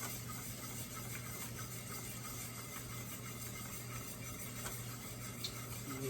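Egg yolks being stirred into banana cream pie filling, a soft, continuous scraping swish that runs steadily throughout, faint and low against a quiet kitchen background with no talking.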